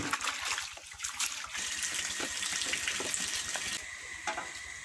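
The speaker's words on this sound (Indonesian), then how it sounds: "Tuangkan air rendaman indigo vera ke bak yang baru dengan cara disaring terlebih dahulu" Indigo soaking water is poured through a strainer into a tub, making a continuous splashing gush with bursts of trickling and bubbling, close and steady.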